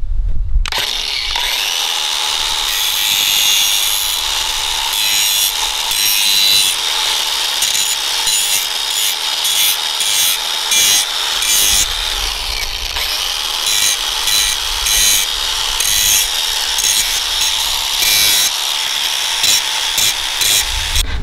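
Grinding a lawn mower blade with a power tool, a harsh continuous abrasive whine with rhythmic pulsing passes as metal is trimmed from both sides, loud and close throughout with no talking.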